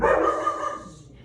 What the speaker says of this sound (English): And that is our shop dog, Olive.